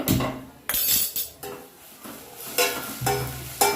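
Chopped carrots, capsicum, onion and cabbage stir-frying in a pan for Chinese patti samosa filling, a loud close sizzle broken by repeated scraping stirs and clinks of the spoon.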